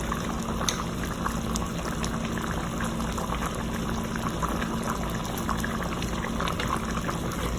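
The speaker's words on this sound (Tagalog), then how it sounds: "balikan na po natin yung kabsa chicken natin. Ayan na siya guys. Kumukulo na." Kabsa chicken broth boils steadily in a cooking pot, a dense continuous bubbling and simmering hiss close by, without pause or talk.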